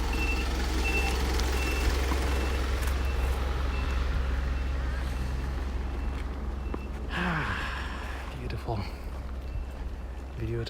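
A drinks vending machine resupply truck backs up on a Tokyo street, its evenly spaced reverse beeps sounding over a low, steady engine rumble, with nearby traffic noise rising toward the end.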